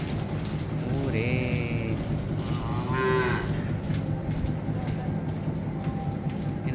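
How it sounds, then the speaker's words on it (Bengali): Calves on a cattle farm moo in a couple of clear, drawn-out calls, set against steady low farmyard rumble and background voices. "এটা হচ্ছে গরুর বাচ্চা"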